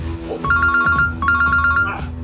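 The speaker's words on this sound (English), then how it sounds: "my phone's ringing. I thought I put that thing on silent." A mobile phone ringtone plays loudly in two repeated bursts of bright chiming tones, close and clear, with no talking over it.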